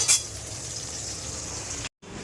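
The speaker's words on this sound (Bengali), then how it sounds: "এখানে পটল ভাজা হচ্ছে" Slices of pointed gourd (potol) fry in a pan with a steady, close hiss of bubbling oil and a faint clink at the start; the sizzle runs continuously apart from a brief dropout near the end.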